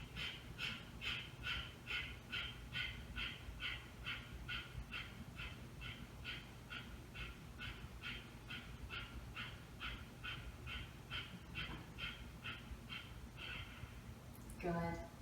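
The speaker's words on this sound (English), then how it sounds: "Big breath in and rapid breaths out." Rapid, forceful exhalations in a yoga breathing exercise, a steady train of about two sharp puffs per second continuing for most of the stretch before stopping near the end, faint and close.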